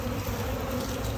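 A steady, dense insect buzz of many honeybees at the hive fills the air continuously, close and even, with no voices.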